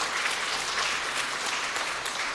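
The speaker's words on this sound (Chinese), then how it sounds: "杨子君夫妇来拍手欢迎他们来" A church congregation at a Sunday worship service applauds to welcome a couple, a soft, continuous patter of many hands clapping, fairly distant and steady for the whole stretch.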